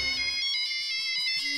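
Electronic phone ringtone for an incoming call, a bright repeating melodic pattern of pulsing tones that plays alone and steadily, fairly loud and close, with no talking over it.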